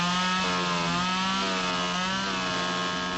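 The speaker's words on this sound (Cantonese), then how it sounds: "佢鋸得龍門入嚟嘅時候" A chainsaw cuts through a door on a rooftop, a steady loud buzzing drone with a constant pitch running throughout, close and alone.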